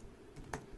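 A domain name being typed on a computer keyboard, heard as a few faint, quick key clicks with one sharper tap in the middle.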